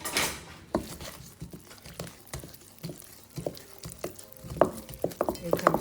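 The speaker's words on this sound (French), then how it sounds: "Ensuite, on va venir mélanger le tout." A spoon stirs pancake batter with 50 g of melted butter in a bowl, making soft, irregular scraping and clinking strokes, close and fairly quiet, growing busier toward the end.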